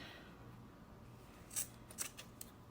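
Scissors cut dress fabric in a few quiet, crisp snips close by against a faint room hum.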